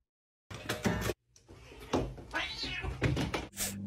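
A cat meows repeatedly near a gaming PC, giving several close, loud, drawn-out cries with short gaps, plus a brief knock-like sound near the start.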